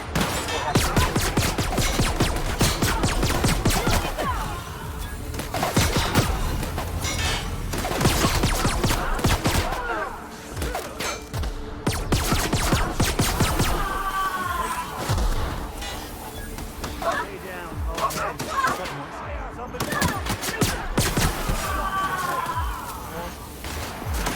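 Sustained gunfire fills a firefight in The Outer Worlds, with rapid bursts and heavy thuds stacking into dense volleys, while voices and shouted lines cut through the shooting.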